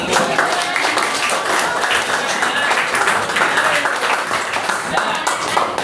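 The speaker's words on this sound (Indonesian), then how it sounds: "Dan akhirnya boleh kasih tepuk tangan semua buat kalian semua" Students in a classroom clap their hands together in a dense, steady round of applause, close and loud, with voices mixed in.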